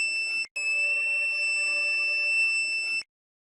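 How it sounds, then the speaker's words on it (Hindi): Buzzer of a DIY thermistor heat alert circuit built on a breadboard, sounding as a steady, loud electronic tone that cuts out briefly, then holds continuously for about two and a half seconds before stopping. "जेव्हा थर्मिस्टर सेन्सरच्या भोवती उष्णता जाणवते तेव्हा बजर आवाज करतो"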